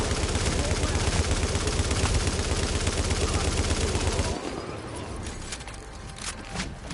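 Sustained light machine gun fire from the video game The Division, a dense, loud rapid-fire burst running for about four seconds before cutting off to quieter ambient game sound.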